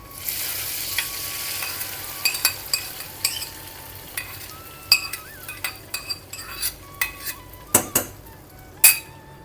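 Dal curry poured into a pan and stirred, with a soft sizzle beneath a run of sharp, closely spaced clinks and scrapes of a spoon on metal, a few louder knocks near the end, close by.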